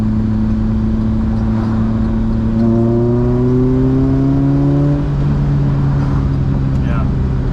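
A Fiat X1/9 engine pulls hard while driving, pitch climbing steadily through the revs before a shift drops it back, loud and close inside the cabin.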